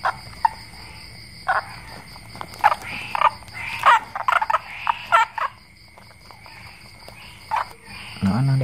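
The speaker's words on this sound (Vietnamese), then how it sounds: "Đây là nhái em bắt hồi tối nè mọi người" Frogs caught at night during the rainy season in the Mekong Delta croak in short repeated bursts, some loud and close, over a steady background of insects trilling.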